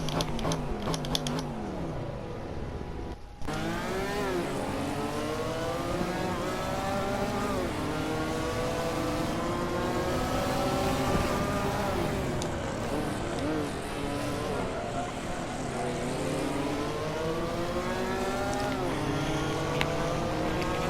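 Race cars in a racing video game, a Porsche and a BMW M4, rev and accelerate continuously with engine notes climbing and shifting through gears, several engines layered together, loud and steady.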